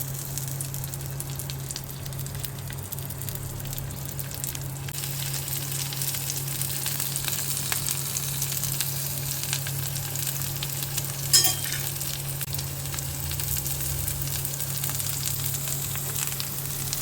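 Stuffed bitter gourd (karela) frying in oil in a pan, giving a steady, even sizzle throughout with a faint constant hum underneath and one brief sharp crackle partway through; no talking.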